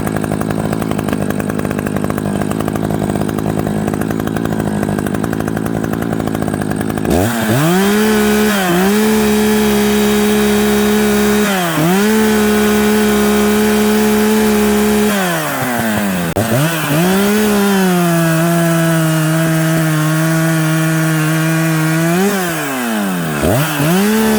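An Echo CS590 chainsaw with bolt-on power upgrades screams loud and steady at full throttle, its pitch dipping and rising as the revs are blipped.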